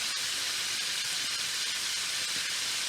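Chicken thighs for a lime ginger dish browning in a frying pan, giving a loud, steady, close-up sizzle and hiss that runs unbroken from start to finish.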